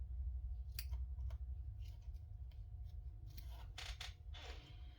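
Large metal scissors being handled and cleaned of glue at a slow-stitching craft table, giving a few scattered light clicks and scrapes, close but faint, with no speech.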